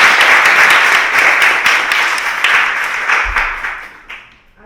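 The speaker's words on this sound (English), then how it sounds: "So just give him another round of applause." A community gathering's audience gives a warm round of applause, dense clapping that gradually thins and fades out.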